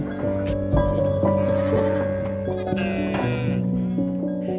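Goats bleat in a tribal village in Bastar, several overlapping, wavering cries sounding close and loud over a steady rural background, with no talk.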